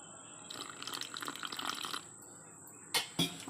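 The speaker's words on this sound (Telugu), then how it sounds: "వేసి కొంచెం వాటర్ పోయండి." Water is poured into a bowl of shrimp pakoda batter with egg, giving a soft, close trickling splash for about a second and a half, then quiet, followed by two sharp knocks near the end.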